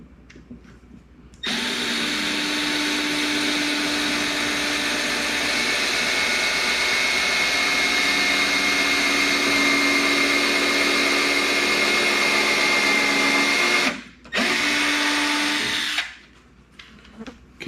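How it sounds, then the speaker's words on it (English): A Milwaukee M12 cordless screwdriver drills into hickory, running steadily and close for over ten seconds, pauses briefly, then whirs again for a couple of seconds before stopping. "let's drill a couple of holes in this hickory and see how we do."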